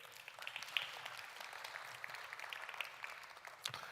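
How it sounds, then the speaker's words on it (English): Quiet, distant applause from a conference audience at an event on climate resilience in African agri-food systems, a soft steady patter of claps with a few sharper hand hits standing out. "Round of applause to them."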